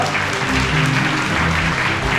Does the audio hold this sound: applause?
yes